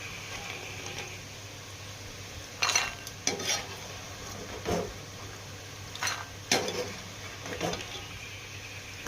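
Plantain pieces fry in hot coconut oil in a pan, with a steady low sizzle broken by several sharp metallic scrapes and clinks as a ladle stirs them, close and without talk.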